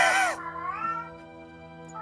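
A cat named Sasha lets out a loud, close, drawn-out meow at the start, then trails off into a fainter whine over a steady background hum.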